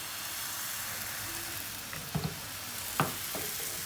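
Batter frying in a pan, a steady close sizzle and hiss with a few soft taps and scrapes from turning or spreading it, no voices.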